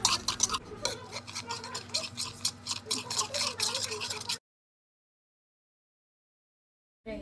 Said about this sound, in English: stir each mixture for about 2 minutes and very well